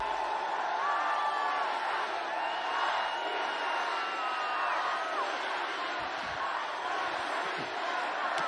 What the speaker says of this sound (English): Notice how the people cheer for him.